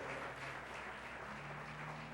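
A church congregation clapping for God during a Sunday service, a continuous wash of many hands heard faintly and evenly over a low steady hum.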